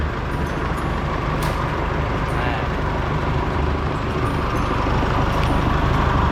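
Modified pickup truck engine running on its first start after being fitted with fresh fuel, a steady low idle rumble with faint clicks and hiss throughout, fairly close and continuous.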